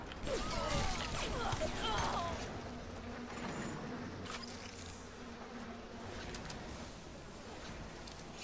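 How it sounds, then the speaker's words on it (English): Buzzing swarm of bees in the video game Bioshock, a dense insect drone with faint mechanical clicks, louder at first then settling into a steady hum. "Oh, it's time for bees."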